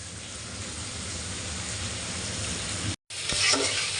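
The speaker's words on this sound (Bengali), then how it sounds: "মশলা কষাচ্ছি" Spices sizzle and fry in a hot pan for a potato curry, with garlic added, giving a steady broadband crackle that drops out briefly near the end, then returns with a scrape of stirring.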